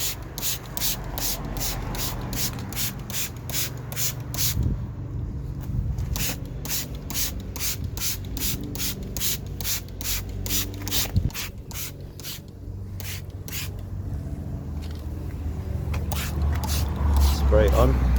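Rapid, regular hissing sprays of wheel cleaner from a trigger bottle onto car wheels and arches, repeated dozens of times in quick bursts, with a short pause midway and a voice talking underneath.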